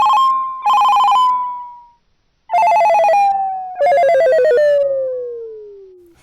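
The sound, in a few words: phone ringtone playing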